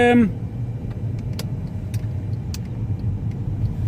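A repaired Mercedes E250 CDI, previously missing and juddering, drives smoothly with a steady, even low engine and road rumble heard from inside the cabin, with no speech.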